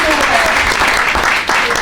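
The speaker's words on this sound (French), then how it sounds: "Puis je pense qu'on peut l'applaudir." An audience at a French association's annual general meeting breaks into a brief, dense burst of applause, with a voice talking over it.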